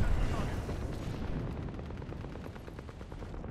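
Gunfire in the Apex Legends video game crackles in a dense, rapid burst of shots over a rumbling background, loud and continuous, with a voice speaking over it.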